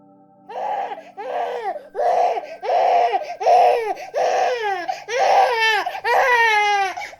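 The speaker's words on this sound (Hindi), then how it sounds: "अचानक से बच्चे की रोने की आवाज़ तेज़ हो गई।" A baby cries loudly at night in a series of about eight rhythmic, close wails, each rising and breaking off, growing more strained toward the end, with no other voices.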